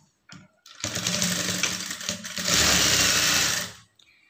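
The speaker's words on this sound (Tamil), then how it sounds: "இந்த நேர் வந்து அப்படியே தையல் போட்டுக்கலாம்" A sewing machine runs steadily, stitching a lined blouse, with a brief start before a continuous whirring run of several seconds that grows slightly louder and then stops, with no talk.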